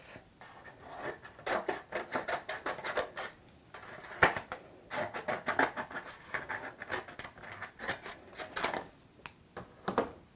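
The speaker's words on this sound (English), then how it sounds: "take our plate and cut it in half" A paper plate being cut in half with scissors for an umbrella mobile craft, heard as quick runs of close, crisp snips and rustles in bursts with brief pauses.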